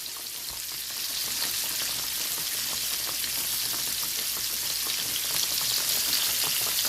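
Cornmeal-coated green tomato slices fry in hot oil in a pan, giving a steady, dense sizzle and crackle that swells after the first second and holds up close with no talk.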